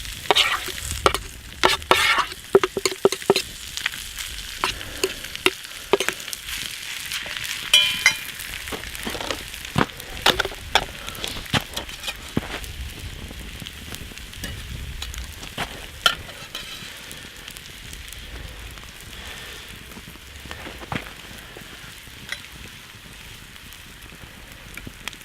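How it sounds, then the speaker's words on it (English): Butter and bread sizzle in a skillet over a campfire, a steady crackling fry broken by sharp scraping stir clicks that are busier early on and ease into a quieter hiss. "Butter is sizzling away on that bread, that's for sure."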